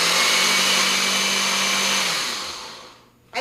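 A blender whirs loudly and steadily, spinning an onion mixture with ground flax seeds for a couple of seconds before the motor winds down and cuts off.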